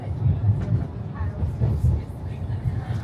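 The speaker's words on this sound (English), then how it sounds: "I love a tram, as I don't often get to use them." A tram in Budapest rumbles along with low, uneven clattering and rolling noise, interior sounds rising and falling over about three seconds.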